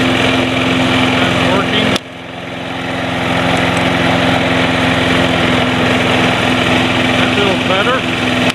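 A Snapper Big Six Ninja self-propelled lawn mower engine runs steadily and loudly, dipping briefly before its drone recovers and holds while the mower drives itself in first gear; someone speaks over the engine.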